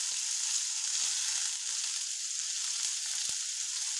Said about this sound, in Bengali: এই আলুটা একটুখানি আমি ভেজে নেব